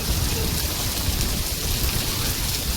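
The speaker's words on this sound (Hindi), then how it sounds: "ये देखो ओरे" Hailstones fall in a heavy downpour whipped by strong winds, a dense, loud and unbroken roar of rain and pelting ice that continues from start to finish.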